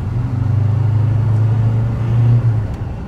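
A Troller TX4's five-cylinder engine drones loudly up close at full throttle, a deep sustained revving roar that rises slightly before easing off near the end.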